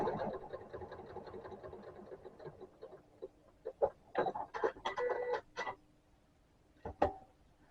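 Home sewing machine running a quarter-inch seam on a Halloween tote bag, a rapid even stitching whirr at first, then scattered clicks and short bursts of fabric handling, close and fairly quiet.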